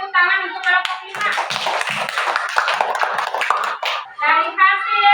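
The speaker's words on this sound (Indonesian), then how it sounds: "Kita beri tepuk tangan untuk kelompok 5." A school class of children claps their hands in a dense burst lasting about three seconds, with a teacher's and children's voices before and after it.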